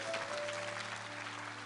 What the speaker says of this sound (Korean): 하나님께 감사의 박수 드립니다.